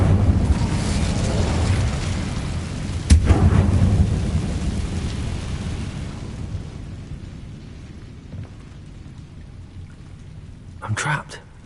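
Incendio fire spell cast in a Hogwarts wizarding video game: a loud roaring, rumbling whoosh with a sharp crack near the start, then a long fading crackle and low rumble, with a brief burst near the end.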